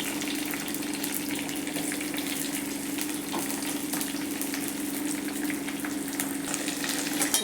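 Onions, tomatoes, curry leaves and onion vadagam fry in a pan, a continuous close hiss and sizzle with faint crackles and a low steady hum beneath.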